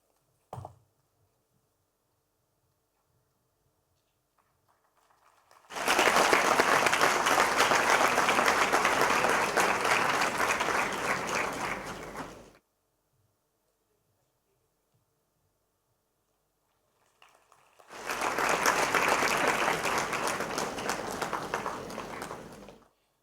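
A large crowd at a Gujarati stage event claps in two long, loud bursts of dense applause, each lasting several seconds and separated by near silence.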